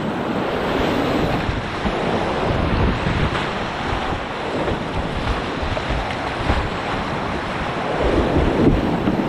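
Rushing whitewater rapids roar around a Pyranha Scorch kayak moving fast downstream, a loud continuous churning wash with heavy wind buffeting on the microphone and no talk.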